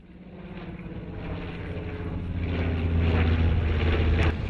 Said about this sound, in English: One by one, 4 World War II aircrafts flew into the Hazleton Regional Airport for the Wings of Freedom tour.